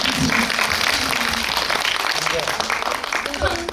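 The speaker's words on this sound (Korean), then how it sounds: "인정하시면 박수 한 번만." Audience applause at a Korean film screening Q&A, a steady broadband wash of clapping filling the room for several seconds, with a voice speaking over it.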